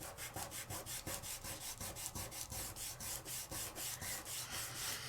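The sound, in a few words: burnishing a layering stencil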